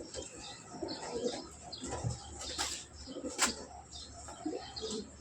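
Pigeons coo softly and repeatedly, close by, with occasional chirps and a brief flutter of wings; racing-type birds are being shown off.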